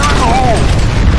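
Grenade explosion in the multiplayer shooter FEAR Combat, a heavy close boom with a deep low rumble, while a short voice callout and a falling whistling tone sound over it.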